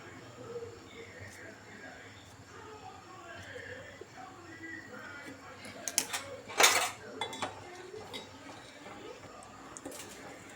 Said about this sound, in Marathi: कढी चांगली हलवत राहायची